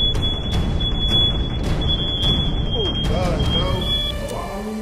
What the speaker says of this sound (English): The bacon burnt, the fire alarm came on, it would not turn off.